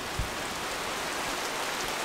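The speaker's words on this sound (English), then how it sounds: "it literally just opened up, pouring down rain" Heavy rain suddenly pours down around a house under construction in the woods, a steady, even hiss with no talking.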